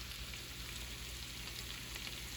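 Garlic and spinach frying in a pan, a steady soft sizzle heard close and quiet, continuous with no talking.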